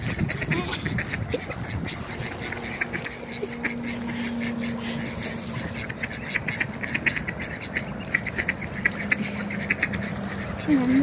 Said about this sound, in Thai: ไม่มีอะไรทำก็มานั่งดูเป็ดนะคะทุกคนเป็ดหัวเขียวเต็มเลยเนาะ